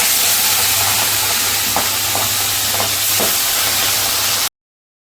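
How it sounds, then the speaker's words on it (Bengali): Fish frying in white cooking oil in a wok, a loud and steady sizzle that never lets up, with a few short clinks and scrapes from stirring and no talk. "মা দেখো গরম গরম ধোয়া ওঠানো মাছটা ভেজে যখন তুলছে"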